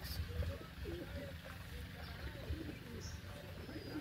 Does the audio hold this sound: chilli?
no